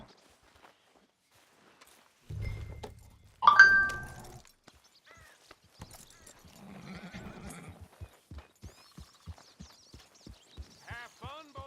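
Horses in Red Dead Redemption 2: a sharp, loud whinny rings out after a brief rustle, then a steady clip-clop of hooves walks on at an even pace, with faint game ambience between.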